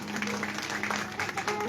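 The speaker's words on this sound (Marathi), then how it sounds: "त्यांच्याकडे एकदा टाळ्या वाजवा" Audience applause at a kirtan performance: fairly quiet, scattered clapping from a crowd over a sustained low musical tone, fairly distant.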